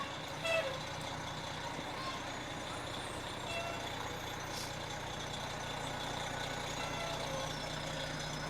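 A fire truck engine idles with a steady low rumble, constant throughout, at an outdoor winter carnival parade in Vernon, with faint outdoor noise and distant voices in the background.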